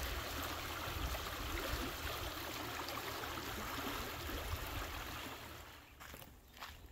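Mississippi River flowing near its headwaters, a steady broadband rush of moving water that continues without a break and softens slightly near the end, fairly close and no talk.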